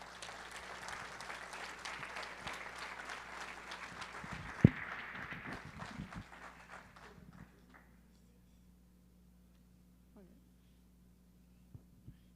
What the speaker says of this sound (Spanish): ¿Por qué no le damos un fuerte aplauso?